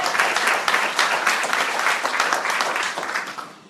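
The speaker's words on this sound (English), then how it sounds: "Big round of applause." An audience at a political rally for Governor Martin O'Malley applauds loudly, a dense, sustained burst of many clapping hands that stays strong before easing slightly at the end.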